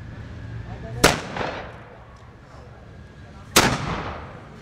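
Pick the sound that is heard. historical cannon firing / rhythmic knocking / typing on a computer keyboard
historical cannon firing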